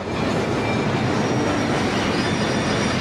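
Steady rolling rumble of a train in 007 Blood Stone on PS3, a continuous dense clatter of wheels on rails with a faint high squeal, close and even throughout with no talk.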